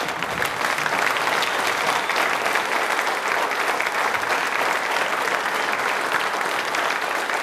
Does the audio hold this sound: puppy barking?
no